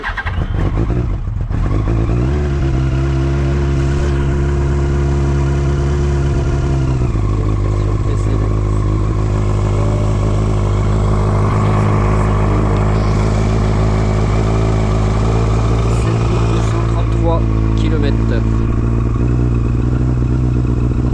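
A 1998 Yamaha R1 that has not run in a long time cranks and catches, then settles into a loud, close, steady engine note. It rises with a rev in the first seconds and drops back to a continuous idle.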